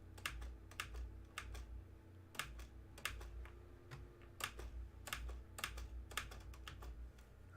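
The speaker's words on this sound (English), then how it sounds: "my keyboard is really loud tonight" Loud computer keyboard typing at night, with bursts of quick, sharp clicking keystrokes and brief pauses between runs, close and prominent over a low steady background hum.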